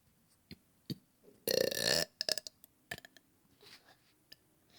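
A young girl lets out one long, loud burp, preceded and followed by a few small clicks and mouth noises in an otherwise quiet room.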